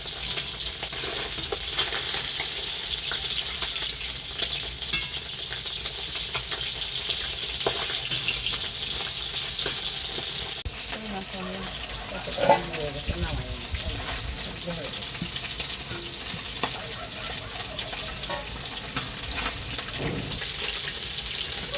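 Koi fish frying in hot oil for a Bengali home-cooked dish, giving a steady continuous sizzle with occasional louder crackles and pops, close up, with faint stirring noises and no talk.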